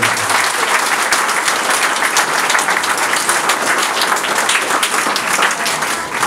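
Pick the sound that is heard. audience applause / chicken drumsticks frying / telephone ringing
audience applause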